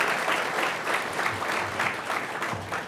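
Audience applause fills a graduation ceremony for a fire academy class, a dense sustained clapping from a sizable crowd.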